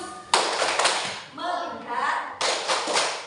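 A teacher and classroom perform a rhythmic 'tepuk fokus' clapping pattern: bursts of hand claps and taps in quick rhythm, broken by a short chanted voice section, then clapping resumes.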